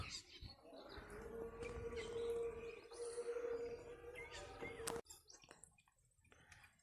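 Soft cooing and scattered chirps from female pigeons close by, continuing steadily, with a sharp knock near the end before things quiet down.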